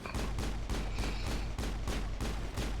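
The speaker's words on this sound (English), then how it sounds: "Quick, shoot him in the kneecap." Rapid gunshots in the sci-fi role-playing game Mass Effect, a loud, evenly spaced run of punchy shots firing about three times a second with no pause, close and heavy.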